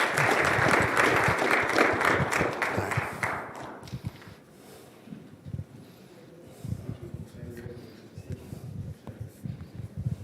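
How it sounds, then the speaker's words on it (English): A school board meeting audience applauds the newly introduced varsity boys head coach. The clapping is loud and full for about four seconds, then trails off into scattered quieter room sounds and movement. "let's get another round of applause for Coach Hatfield"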